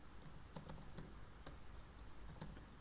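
Rapid keystrokes clatter on a computer keyboard as JavaScript code is typed, a close, uneven run of sharp clicks with brief pauses and no talking.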